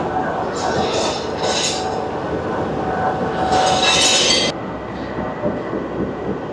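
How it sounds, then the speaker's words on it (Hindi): The Jaffar Express passenger train rolls along the rails, a loud, near rumble of wheels with bursts of high squealing and clattering. "पाँच बजकर 12 मिनट पर 40 डाउन जाफ़र एक्सप्रेस लाहौर से बढ़ रही है अपने बकिया और तवील सफ़र पर।"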